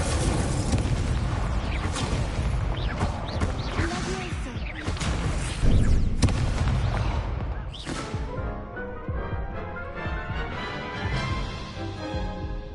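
Incendio fire spell blasts in the Hogwarts Legacy video game, a run of loud booming bursts and crashes with whooshing fire, then a fading rumble and some game music.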